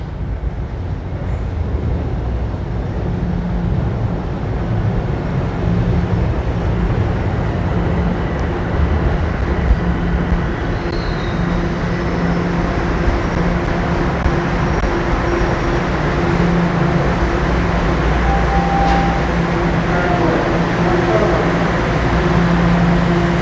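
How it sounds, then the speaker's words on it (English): Toronto subway Line 1 northbound train running through a station, a steady loud low rumble and rail roar that holds for the whole stretch without letting up. "that's the northbound train for line 1."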